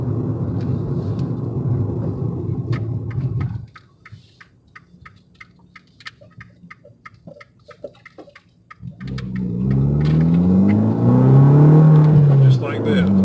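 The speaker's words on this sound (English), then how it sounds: "I hate to roast these tires because they're such a good tire" A 2015 Fiat 500 Abarth on Pirelli tires revs hard under boost at night, its engine roaring loud and close before a quieter stretch of ticking, then a rising, wavering engine note returns strongly.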